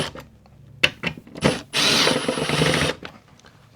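A power drill drives screws into a wooden workbench, a loud whirring burst of just over a second, preceded by scattered knocks and handling sounds.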